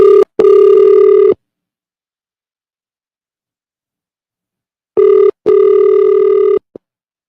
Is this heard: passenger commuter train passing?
no